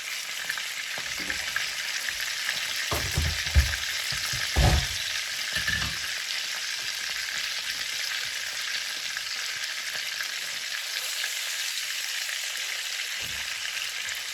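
Pork chops frying in a pan give a continuous, fairly loud sizzle with a few clattering knocks and scrapes from the pan early on, then a steady hiss alone.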